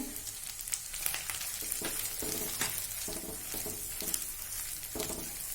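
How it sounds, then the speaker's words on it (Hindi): Ginger, garlic and powdered spices fry in a pan, giving a continuous close sizzle with repeated scraping stirs. "अदरक लहसुन का कच्चापन जाने तक फ्राई कर लेंगे इसे"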